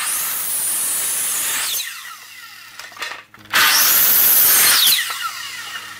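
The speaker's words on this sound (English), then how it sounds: "with a steady hand, I can get it more than good enough with this little circular saw" A small battery-powered circular saw cuts wood, a loud close whine running steady for about two seconds, stopping, then spinning up again for another steady cut of similar length.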